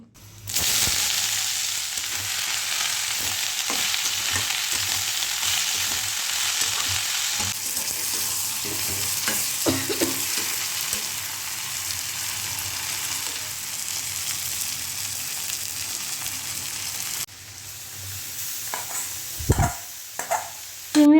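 Cabbage cooking on a stove in a home kitchen, with a steady sizzle and repeated stirring and scraping in the pan, a brief break near the end followed by louder clattering knocks.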